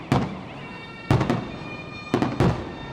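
Fireworks burst in four sharp, booming explosions at a Bournemouth display, arriving in two pairs with crackling tails between them, moderately distant and with no talking.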